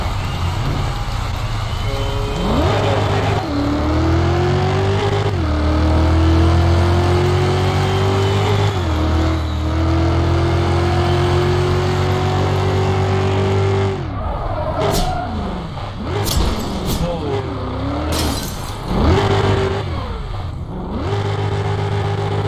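Car engine in an online racing video game, a steady droning hum with rising and falling revs as the car accelerates and shifts, loud and continuous, with some sharper bursts near the end.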